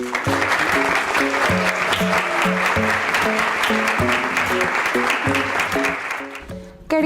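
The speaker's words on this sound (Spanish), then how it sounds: "Les pido un aplauso para recibir a nuestra conferencista," Applause welcoming a marketing lecturer onto the stage at a conference, a steady, loud wash of clapping with background music running underneath that fades out near the end.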